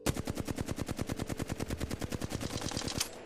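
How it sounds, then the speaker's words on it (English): A Flatline assault rifle in Apex Legends fires a long, rapid automatic burst at a wall, evenly spaced sharp shots ending abruptly after about three seconds. "I shoot my gun at this wall."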